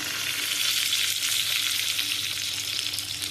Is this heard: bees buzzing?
no